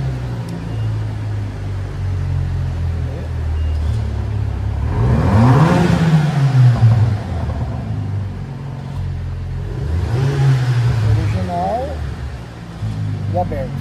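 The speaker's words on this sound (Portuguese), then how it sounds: "Vou acelerar, vou até colocar o celular mais para fora para ver se pega o som." A Ram Rampage RT pickup with its exhaust valve closed and a stock, raised setup, revving twice in rising and falling surges over a steady idle rumble, with a person talking in between.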